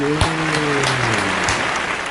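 A church congregation at a worship service applauds a participant: a dense, loud wash of clapping up close, with a sustained tonal voice or instrument beneath it.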